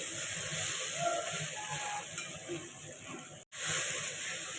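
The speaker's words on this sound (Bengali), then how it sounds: "আমি আগে সেদ্ধ করলাম না, ভেজেই করছি।" Jackfruit frying in oil without first being boiled, giving a steady close sizzle and hiss that runs throughout, broken by one very brief drop to near silence partway through.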